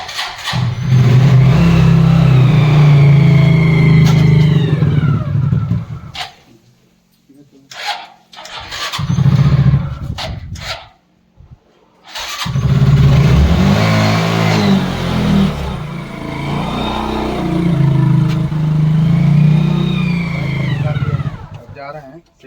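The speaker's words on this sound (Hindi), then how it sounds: "बाइक हम निकाल ले रहे हैं बाहर में।" A motorcycle engine starts and revs repeatedly as the bike is taken outside, a loud, close throbbing that rises and falls for long stretches, broken by quieter gaps with people talking.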